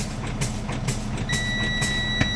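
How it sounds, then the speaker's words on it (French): A truck's low air pressure warning alarm sounds a steady high-pitched electronic tone continuously during a brake test, over a low idling engine rumble, with some faint background clatter. "j'ai mon alarme sonore"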